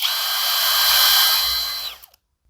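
A CATPOWER 4426 40V cordless impact wrench runs at steady high speed with a loud, even whine for about two seconds, then spins down and stops, leaving silence.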